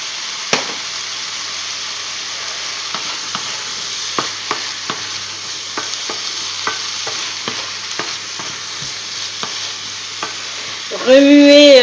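Squid basquaise being stirred in a pan: a spoon scrapes and taps through a busy sizzle, and a louder rattling burst comes right at the end.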